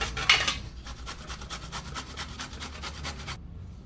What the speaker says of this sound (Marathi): आता आपण दुधी खिसून घ्यायचं आहे